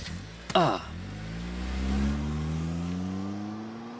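A car pulls away after people climb in, its engine revving up in a steady rising drone that holds through to the end, following a sharp door-like thump near the start.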